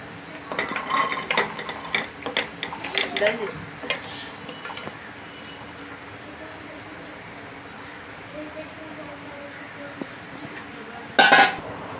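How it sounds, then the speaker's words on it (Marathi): Washed vegetables for pav bhaji clatter against a metal pressure cooker, several quick clinks early on, then quiet with one sharp metallic clank near the end. "ती आता मी त्या कुकरमध्ये टाकणार आहे"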